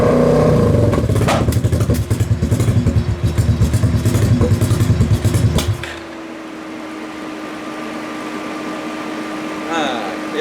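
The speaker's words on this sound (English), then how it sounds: "Got to turn the idle up a bit." Kawasaki KFX 700 quad engine runs loud and rough with rapid revving pulses for about six seconds, then drops to a quieter, steadier idle hum with a faint whine near the end.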